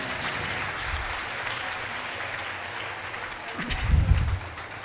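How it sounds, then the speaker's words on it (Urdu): An audience at an annual Marian pilgrimage gathering applauds, a faint, steady patter of many hands that swells briefly toward the end with some low rumble. "زوردار تالیاں مقدسہ ماں کی شان میں"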